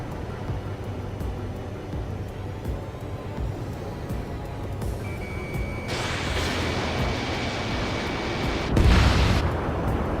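In the Ace Combat 7 video game, an anti-air radar vehicle explodes with a loud burst and deep boom near the end, over continuous rumbling battle noise and a steady tone.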